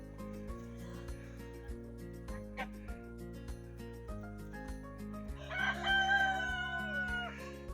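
A rooster crows loudly and close by in a winter poultry yard kept with geese and chickens. Steady clucking and other fowl calls continue in the background.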